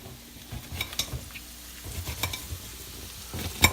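Onion fries alongside homemade French fries in a pan, giving a soft, continuous sizzle with light crackles and occasional stirring clicks, close up and without any voice.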